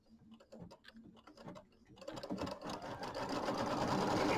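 Sewing machine tacking batting down onto a quilt block, starting with short stitching bursts and then running in a steady, increasingly loud whirring stitch, close and alone.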